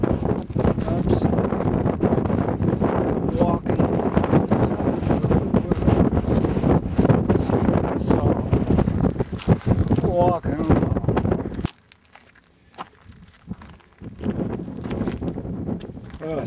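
Strong wind buffets the microphone while riding a mountain bike trail among mountains, loud continuous roaring gusts that drop away abruptly near the end, then return more softly.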